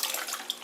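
Water sloshing and splashing as a filter sponge is rinsed in tank water from a 90-gallon discus aquarium, a brief, quiet burst of wet churning.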